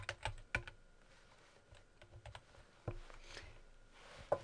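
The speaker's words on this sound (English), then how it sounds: "Next, we want to type in whatever specific information." Someone types on a computer keyboard in an irregular rhythm of close, crisp keystrokes, with a few louder taps standing out over a low room hum and no talking.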